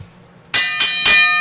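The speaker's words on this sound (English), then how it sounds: "That damn bell's weak." Three quick ringing bell strikes in a row, bright and metallic with a long sustained shimmer, close and loud with no voices over them.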